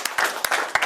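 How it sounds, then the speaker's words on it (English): A magic show audience gives a brief round of applause, with a few sharp, close claps over a short burst of crowd clapping. "Give her a round of applause."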